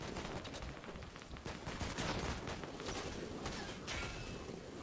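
Gunfire in a Fortnite Trios match, a dense continuous crackle of rapid shots at moderate distance, steady throughout with no talk.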